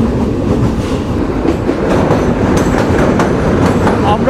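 The Sundarban Express intercity train, running between Khulna and Dhaka, rushes past close by at moderate speed, giving a loud, dense rumble with rhythmic clickety-clack of wheels over rail joints.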